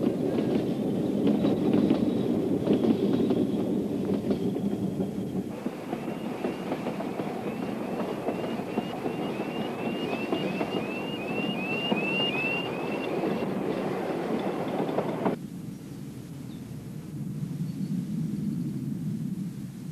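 A Ffestiniog Railway train runs along a lakeside, a steady broadband rumble of carriages on the narrow-gauge track, with a whistle-like tonal streak midway, then the noise drops and thins as the run continues.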